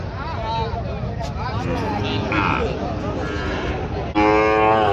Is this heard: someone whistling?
no